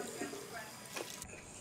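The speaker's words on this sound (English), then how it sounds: "let's wash the dishes" Running water while washing dishes at a sink in a video game, a faint continuous splashing stream with a brief faint voice partway through.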